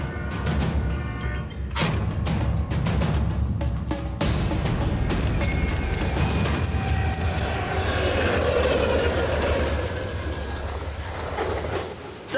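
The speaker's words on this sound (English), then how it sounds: "chasing a prized bullnose locomotive" A bullnose diesel locomotive thunders past a level crossing in rural Australia, loud and close, its heavy engine roar and rolling wheel clatter sustained throughout before easing slightly toward the end.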